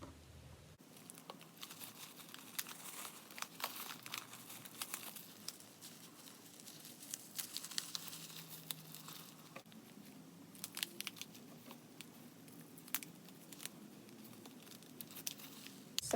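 Tissue paper and a coffee filter are wrapped around an egg for dyeing, giving quiet, intermittent crinkling and rustling close by, with soft crackles over a near-silent background.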